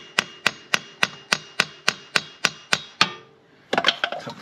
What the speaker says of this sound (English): I can get the hammer, tap the shaft out